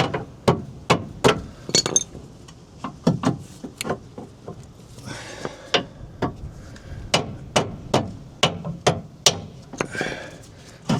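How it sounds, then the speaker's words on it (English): Repeated sharp taps of a small soft-blow hammer nudging a Fiat Panda lower suspension arm, striking metal in a steady rhythm close by, with a brief scraping pause midway. "it's a little tiny soft blow hammer just to nudge it over"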